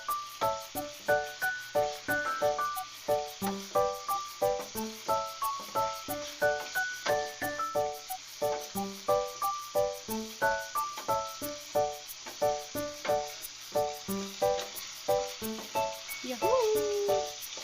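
Chicken adobo with chicken liver frying in oil, a steady crackling sizzle with rhythmic bursts of popping throughout, close and fairly loud, with no talking over it.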